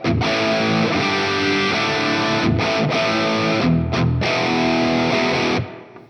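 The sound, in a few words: electric guitar with hall reverb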